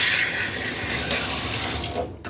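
An aloe vera leaf is rinsed under a running tap, a loud, steady rush of water splashing into a sink that cuts off abruptly near the end, heard up close.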